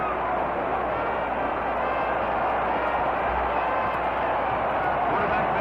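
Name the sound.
crowd cheering at 1954 Grey Cup football game broadcast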